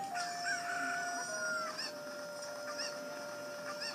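A cucco crowing in The Legend of Zelda: Ocarina of Time 3D, a quiet drawn-out rooster call with shrill rising and falling notes over steady game tones, no talking.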